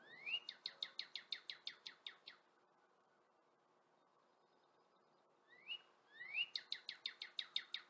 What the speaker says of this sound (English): If you hear that sound, you know a cardinal's nearby.